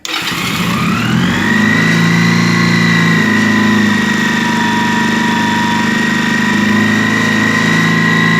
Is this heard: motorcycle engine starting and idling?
yes